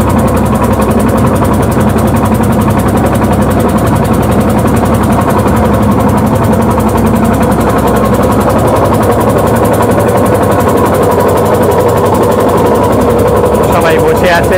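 Motor boat engine droning steadily on the lake at Mukutmanipur, a continuous mid-low hum carrying loud and close throughout, with passengers chatting faintly underneath.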